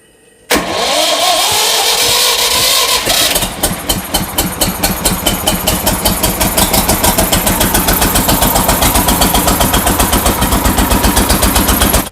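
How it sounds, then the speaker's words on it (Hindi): A bio-CNG powered generator engine at a cow shelter bursts into life after a moment of quiet, revving hard at first and then settling into a loud, steady, rapid chugging idle heard close up. "ये बायो सीएनजी जनरेटर है, और किस तरह से चलेगा आप इसे देखेंगे लगातार।"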